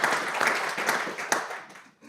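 Audience at a conference on religion and morality claps in a dense wash of hands, fairly close and steady before thinning out near the end.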